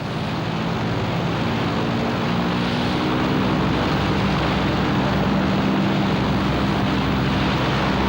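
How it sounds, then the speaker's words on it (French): Warplanes launch from an aircraft carrier during the Battle of Midway, heard as a loud, steady, unbroken roar of engines and wind over the sea, with no voices. "À l'insu de son homologue japonais, Frank Fletcher lance ses avions et est prêt à attaquer à tout moment."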